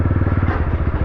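A motorcycle crossing a river, its engine close and loud with a quick, steady thumping pulse through a single second, no voices.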